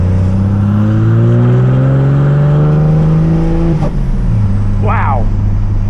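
A 12v Cummins diesel truck with an MDC EZ turbo upgrade accelerates in third gear, its loud steady engine drone rising in pitch throughout, easing off near the end, with a short squeaky chirp over the top.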